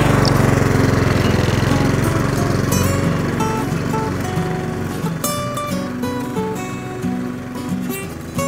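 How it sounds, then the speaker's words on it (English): A petrol lawn mower runs steadily while mulch mowing grass, its engine giving a loud, continuous close-up drone with a blade whir that shifts slightly as it moves. "This one is a petrol mower."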